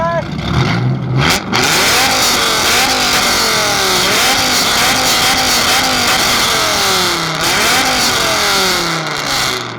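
A Dodge Viper engine at a car show revs hard again and again in rising and falling sweeps, loud and close, with crowd voices shouting beneath it.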